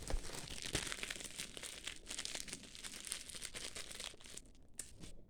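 Close, continuous crinkling and rustling of a thin plastic shopping bag, with sharper crackles scattered throughout and no voices.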